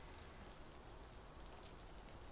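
Steady rain falls in the Bromley area of the Fallout London video game, a faint, even hiss of drops pattering on surfaces with no voices.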